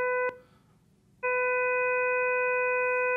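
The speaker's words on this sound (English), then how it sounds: "one thing we want to start out by showing you is, or actually playing you, are two tones." A steady pure electronic tone with overtones plays after a short click, breaks off briefly, then resumes and holds evenly to the end.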